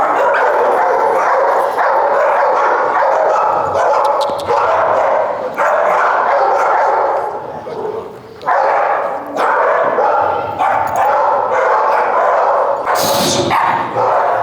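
Several dogs at a dog training seminar in New Jersey bark and yip repeatedly, loud and close, in overlapping bursts throughout, with a person talking underneath at times.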